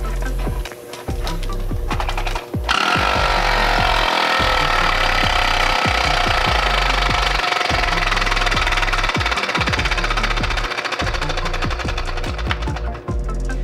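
A homemade compressed air engine runs loud and close with a fast, steady mechanical knocking rhythm and an airy hiss, after a brief uneven start.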